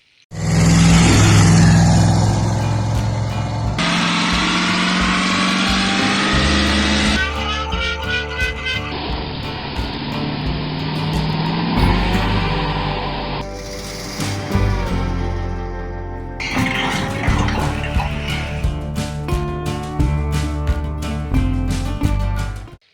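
A classic Ford Torino cruises on a fall road trip toward Chena Hot Springs. Its engine drones steadily and loudly, with shifts in pitch as it changes gear and accelerates, and nobody speaks.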